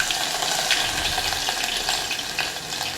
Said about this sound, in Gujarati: તેલ આપણું ગરમ થઈ ગયું છે રહી નાખશું લસણ આદુની પેસ્ટ